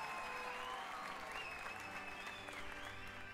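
Sustained applause from a crowd at the Sorting Hat ceremony in the video game Hogwarts Legacy, a steady, dense clapping that carries on unbroken throughout.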